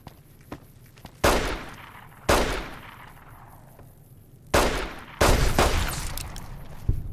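Gunshots ring out in Fallout: New Vegas during the Honest Hearts expansion, several loud, sharp blasts spaced a second or two apart, some in quick pairs, over a quiet background.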